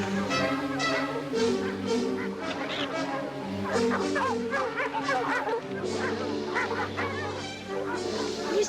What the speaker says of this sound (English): They probably heard the dogs, too.